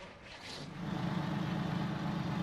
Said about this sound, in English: let's go ahead and start it up and let's check it out